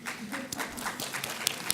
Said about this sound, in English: So it's a clapping crowd.